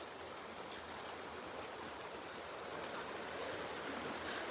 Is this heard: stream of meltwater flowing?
yes